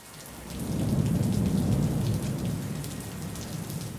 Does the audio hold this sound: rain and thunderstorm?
yes